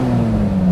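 Lamborghini LM002 engine heard from inside the cabin, a loud, steady low drone with a strong humming tone that holds through the moment without any talk.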